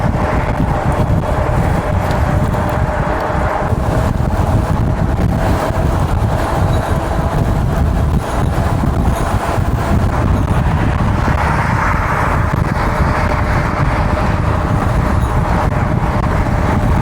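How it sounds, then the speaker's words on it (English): Steady road traffic builds around Perryville at dawn, a dense, unbroken roar of passing vehicles mixed with strong wind buffeting against the microphone, loud and close throughout. "traffic's picking up in general"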